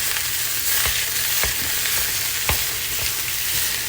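Ground beef fries in a hot oiled skillet with a steady, bright sizzle, broken by a few soft scraping stirs as the meat is broken up; no one speaks.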